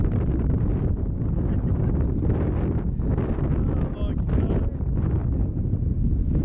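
Strong Storm Ellen wind buffets Bamford Edge in a loud, relentless roar, the gusts pounding directly against the microphone throughout.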